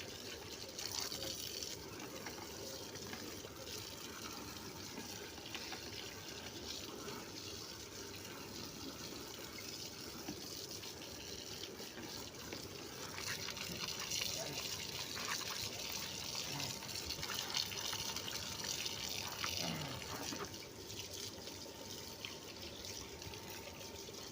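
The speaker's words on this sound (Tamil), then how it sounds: "தண்ணியில் எப்படி வாஷ் பண்ணேன்னு பார்த்துருப்பீங்க" Water sprays and splashes steadily across an air conditioner coil being washed, a continuous hissing rush of liquid that swells louder midway and runs on without pause, with no talking.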